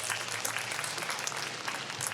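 A convention hall audience at a fan panel with the 1987 Teenage Mutant Ninja Turtles cast in Anaheim breaks into sustained, even applause, loud and close, with scattered sharp claps throughout.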